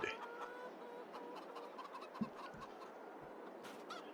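Chickens cluck in the video game Farming Simulator 22 over a steady background hum, with a few soft clicks and short sharp sounds scattered through.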